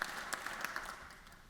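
An audience applauds a speaker at a formal event, a dense, even patter of many hands clapping at a distance, faint and tapering off over a second and a half.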